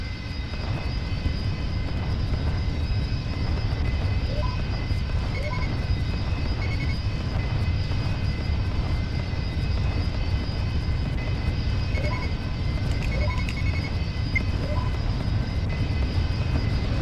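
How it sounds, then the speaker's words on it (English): Steady roar of TIE Bomber squadron engines launching in a Star Wars space combat game, a continuous loud aircraft-like drone with faint tonal whines layered above, holding evenly throughout with no talk. "TIE Bomber Squadron launching"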